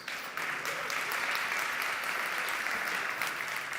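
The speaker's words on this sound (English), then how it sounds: "Neil, another round of applause." An awards ceremony audience breaks into a round of applause, a dense, steady wash of many hands clapping together, loud and sustained throughout.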